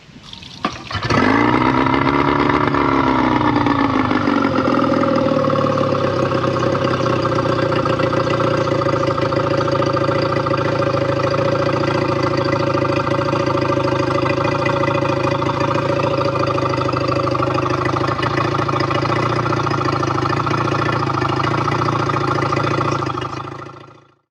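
A small outboard motor on an inflatable boat starts up and runs steadily at idle while being flushed of salt water, a loud continuous droning hum with a watery gurgle underneath.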